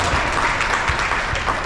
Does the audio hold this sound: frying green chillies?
no